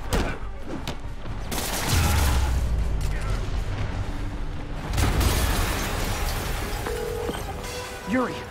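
An explosion in Spider-Man Remastered booms through a burst of heavy, rumbling blasts and debris, rising midway and fading to scattered crackles near the end.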